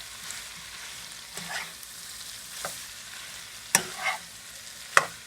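Butternut squash and chicken stirred in a pot, with a spoon scraping and clacking in several separate strokes over a soft background sizzle, close and moderately loud, no talking.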